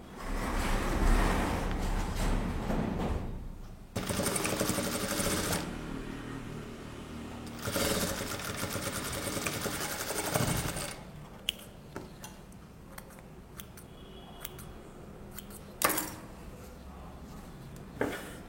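Sewing machine stitching fabric: loud bursts of rapid mechanical whirring and ticking, each running a couple of seconds, then quieter handling sounds with scattered clicks.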